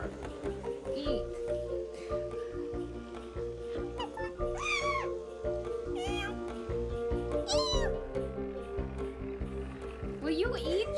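Cartoon cat meows in the video game Toca Life City, several short rising calls standing out over steady game music, with a voice talking to the cat in between.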